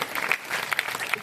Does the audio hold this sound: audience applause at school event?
yes